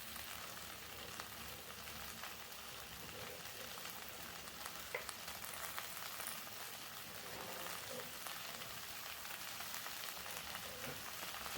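Shredded cabbage, capsicum, carrot and green chilli stir-fried over a high gas flame, a steady dense sizzle and hiss running throughout with faint scraping of stirring, no talking.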